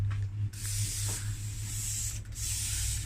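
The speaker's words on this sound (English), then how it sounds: "get your spray gun ready" A spray gun hisses steadily in long bursts onto a sublimation mug, with a short break partway through and a low motor hum underneath.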